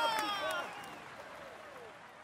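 A crowd claps steadily for a Tour de France cyclist, the applause slowly fading, while a loud ringing, whistling tone sweeps across it.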